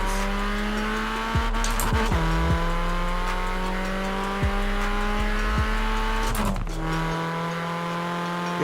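A Vauxhall Corsa VXR four-cylinder engine in the racing game Forza Horizon 4, revving loudly and repeatedly with pitch climbing and dropping through gear shifts, plus a brief tire-squeal-like burst near the end, no talking.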